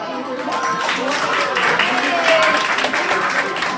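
Relatives clapping in a contest at a first birthday party, a sustained burst of applause from a small crowd with talk underneath.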